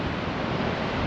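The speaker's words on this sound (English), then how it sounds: "Waves crashing on the rocks over there." Waves crash on rocks along the coast at Lincoln National Park, a dense continuous roar of surf with wind noise, loud and steady throughout.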